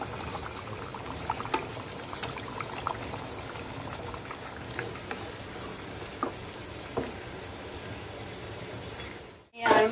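Spiced gravy bubbles at a steady low boil as fish pieces go into the pot, heard as continuous burbling with small splashes and a sudden clatter at the end.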